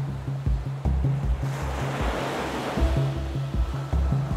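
Artificial sea waves rolling and breaking in a wave testing facility, a continuous wash of surf with a rhythmic low-pitched pulsing underneath, steady and moderately loud without any voices.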